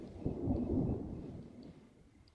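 Thunderstorm in The Sims 4 video game: a deep rolling rumble of thunder that swells early and then slowly fades, with a faint wash of rain beneath it.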